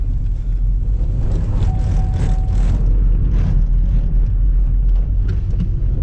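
A front-wheel-drive Pontiac G5 with an automatic transmission drifts in the snow, giving a close, steady low engine rumble with road and tire noise, and no talking.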